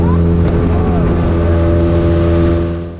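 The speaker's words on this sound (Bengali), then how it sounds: "আমরা কচ্ছপিয়া ঘাট থেকে স্পিডবোটে যাত্রা শুরু করি মুকরি ঘাটের উদ্দেশ্যে" A speedboat motors across open water on the Bay of Bengal near Bhola, running from Char Kachhopia ghat toward Char Kukri Mukri; its engine drones steadily and loudly, close by, with a continuous low hum throughout.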